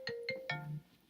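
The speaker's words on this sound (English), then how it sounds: "sorry about that, that's my phone." A mobile phone ringtone: three short tonal electronic chimes in quick succession, the last one held a little longer, fairly faint and heard alone.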